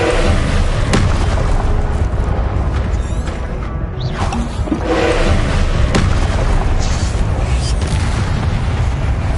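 The Confringo fire spell in Hogwarts Legacy lets out heavy booming blasts with whooshes and rumbling debris, loud and layered over game noise, with a short dip in the middle before the explosions resume.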